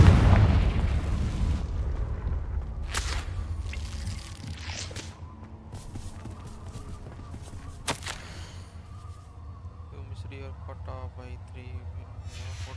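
A Confringo blasting spell exploding in the Hogwarts Legacy video game, a heavy booming blast up front that rumbles and decays, followed by scattered crackling debris and smaller bangs.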